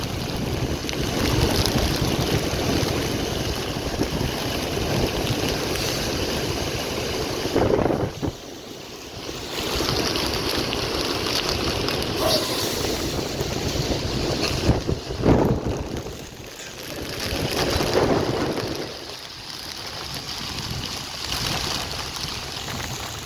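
Strong typhoon wind roaring beside Manila Bay, a loud continuous buffeting rush battering the microphone with brief lulls and surges, no talking.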